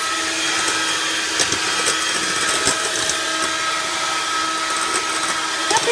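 An electric mixer whips egg whites for homemade eggnog, a loud, steady motorized whir with a constant high hum and occasional small knocks as the beaters touch the bowl, with no talking.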